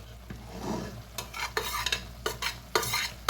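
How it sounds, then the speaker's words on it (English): Pasta casserole ingredients with a meat mixture are stirred in a pan, giving a soft scraping and sizzling bed broken by several sharp utensil scrapes and knocks, close and clear with no talking. "I'm just going to keep mixing"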